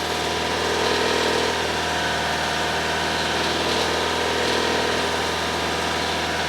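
A car engine held steady at 2,500 RPM during a battery test, a constant, even hum with no pauses, heard alone.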